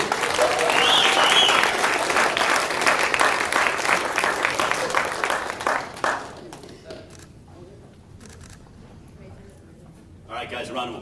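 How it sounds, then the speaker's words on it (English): An audience at a boxing press conference breaks into loud, dense applause that lasts several seconds and then dies away, with a voice speaking over the clapping and a short burst of clapping returning near the end. "a round of applause for Gary Russell Jr., the WBC featherweight champion of the world"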